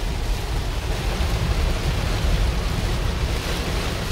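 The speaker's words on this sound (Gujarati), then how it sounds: "બહુ વરસાદ પડે છે" Heavy rain pours onto the main Jamnagar road near Ramgadh, between Bileshwar and Ranavav, in Gujarat. It makes a dense, steady roaring hiss that stays close and unbroken, with no voices.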